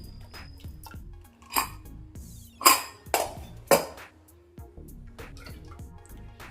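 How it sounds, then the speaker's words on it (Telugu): A lid is lifted off a cooking pot of steaming boiled jackfruit seeds. A few sharp metallic clinks and knocks ring out close, with soft drips and handling noise in between. "ఒకసారి మూత తీసి చూసుకుందాం."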